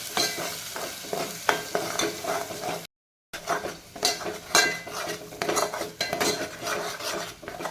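Ground masala paste is sautéed with cooked tomato in a pan for chicken masala: a utensil repeatedly scrapes and clatters against the pan over a constant sizzle, broken by one brief silent gap.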